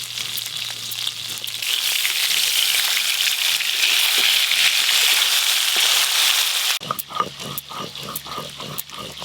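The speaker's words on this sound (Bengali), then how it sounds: "এই যে এই মাছগুলো ভাজা হয়ে গেছে" Fish frying in hot oil while a Bengali riverside meal of tul fish is prepared, giving a loud, steady broadband sizzle that drops abruptly near the end into a quieter crackling with scattered pops and clatter.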